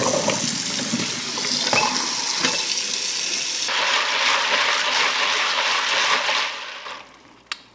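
Tap water runs steadily over pinto beans being rinsed in a pot, giving a loud, continuous splashing hiss that shifts partway through and fades out near the end.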